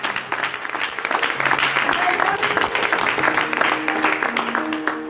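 Church congregation applauding Jesus during a French-language service, a dense sustained wash of clapping hands at steady loudness throughout, with voices mixed in underneath.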